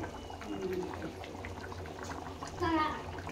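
Thick mutton gravy simmers in a pot, a soft steady bubbling and hiss that runs close by for a few seconds, with a faint voice drifting in.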